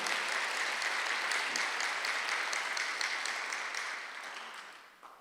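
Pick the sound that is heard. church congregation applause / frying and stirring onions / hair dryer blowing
church congregation applause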